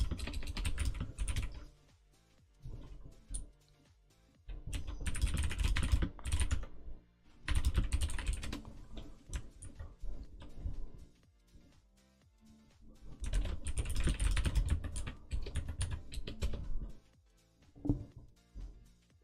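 Bursts of rapid typing on a computer keyboard, with clustered clicks in several runs separated by short pauses, close and clear while a programmer works on a chat client.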